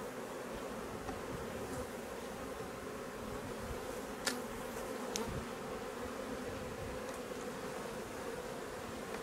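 A crowded colony of honey bees hums continuously at an open hive in summer harvest season, an even, close drone with a couple of sharp clicks partway through and no talking.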